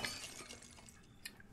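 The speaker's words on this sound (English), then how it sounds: "Quick time bobblehead smashing." A bobblehead smashed in the Resident Evil 7 video game gives a breaking, glassy shatter with a sharp crack and a brief clink near the end, fairly quiet and without talk.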